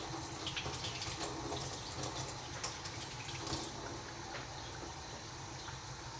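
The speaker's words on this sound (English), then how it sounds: "let's go ahead and rinse off the salmon." Salmon rinsed under a running kitchen tap, a steady close hiss of flowing water with small splashing bursts, no talking.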